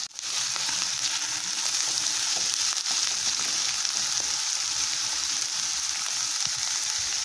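Onions and green chillies fry in a pan for a Telugu-style boti curry, making a steady, loud, continuous sizzle that stays even throughout, close up and without speech.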